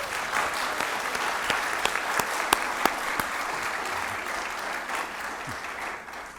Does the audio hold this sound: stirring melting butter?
no